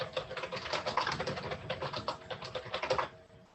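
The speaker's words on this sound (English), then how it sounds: "it's a noisy keyboard" Fast typing on a noisy computer keyboard, a dense rapid clatter of close keystrokes lasting about three seconds before stopping.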